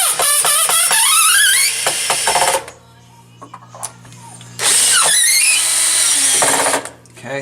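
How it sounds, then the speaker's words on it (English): A power drill drives screws into a space-saver can tray in a cabinet: two long, loud bursts of whirring that rises in pitch as it spins up, with clicks and a quiet pause between them. "So let's finish screwing these in."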